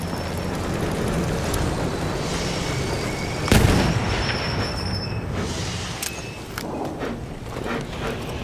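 An armored train rumbles past on a battlefield in the World War I shooter Battlefield 1, a loud continuous rolling roar with metallic squeals and a sharp explosive blast partway through, no speech.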